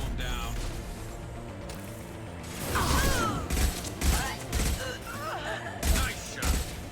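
Gunfire in the Mass Effect video game during a Garrus side mission: a few sharp shots and bursts break over steady game background noise, with a voice talking underneath.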